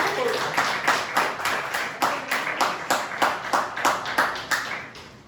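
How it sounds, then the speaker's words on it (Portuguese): A church congregation claims in a steady rhythmic beat, roughly a dozen bursts evenly spaced, loud and close, with a murmur of voices beneath the clapping. "esse aplauso foi para mim"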